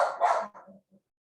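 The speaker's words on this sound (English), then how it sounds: "you heard my dog barking, right?" A dog barks nearby, one loud bark followed by a couple of quieter, fading yips, heard alone without talking.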